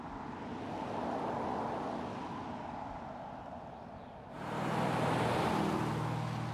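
A 2018 Mercedes S-Class cruising on a road gives a steady rolling hum of tires and wind at moderate level, with a brief dip before the road noise rises again into a fuller, lower drone.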